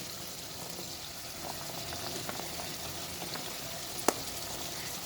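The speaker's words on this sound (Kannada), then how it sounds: "ಇನ್ನೊಂದು ವೆಜಿಟೇಬಲ್ ಯಾವ್ದು ಎಣ್ಣೆನೇ ಫ್ರೈ ಮಾಡಬೇಕು ಅನ್ನೋದಂದರೆ ಆಲೂಗೆಡ್ಡೆ" Potatoes frying in oil for palav make a steady bubbling sizzle at moderate level throughout, broken by one sharp click near the end, with no talking.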